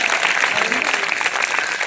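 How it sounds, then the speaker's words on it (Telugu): A church congregation at a Christmas celebration claps loudly and continuously, a dense roomful of applause with voices faintly mixed in beneath the clapping. "గట్టిగా చప్పట్లు కట్టి ప్రభువుని కనపడండి"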